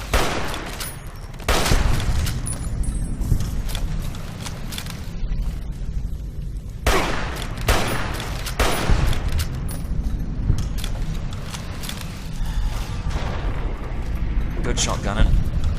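Gunshots and explosions in Fallout: New Vegas, a dense stream of loud cracks and booms with several big bursts, close and continuous, with players talking over the combat.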